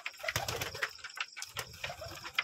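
Pigeons coo at a farm where doves also live among the birds, soft repeated calls overlapping in a busy, continuous chorus with a few brief wing flutters, fairly close and moderately loud.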